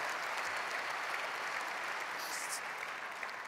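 A conference audience applauds a live drag-and-drop data demo onstage, a brief, even wash of clapping from a large crowd that holds steady throughout without any talk over it.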